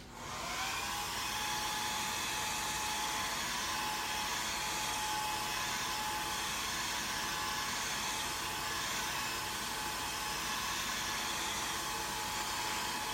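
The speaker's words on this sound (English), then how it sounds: "I'm gonna hit that now with a blow dryer" A blow dryer runs steadily and loudly for about thirteen seconds, drying fresh paint on a piece for a gallery wall, its whine holding an even pitch with no pauses.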